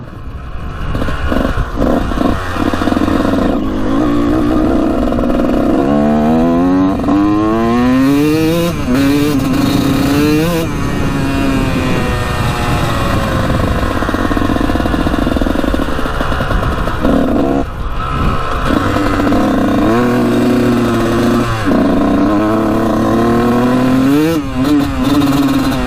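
A Kawasaki dirt bike engine runs loud and close, bought for $500, idling with a rough clatter and revving repeatedly in rising and falling sweeps throughout.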